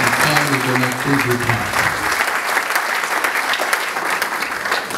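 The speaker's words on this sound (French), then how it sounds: "Je demande à l'auguste assemblée d'applaudir pour le président de la République." An assembly audience at a formal ceremony honoring the president of the Republic applauds in a dense, sustained wave of clapping, with a voice speaking over the start before the clapping continues alone.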